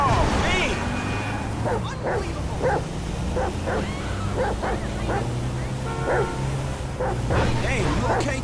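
Chop the dog in GTA 5 lets out a run of short yips and barks mixed with whimpers, repeated in quick bursts over a steady low game rumble, with a voice talking.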